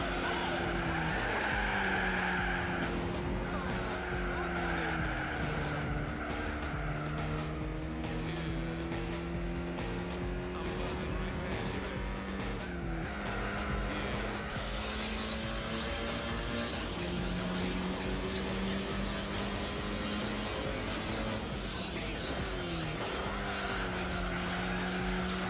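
Race cars circling a track in Gran Turismo 4, a steady engine drone with shifting pitch as gears change, held at a constant moderate level throughout with other cars close behind.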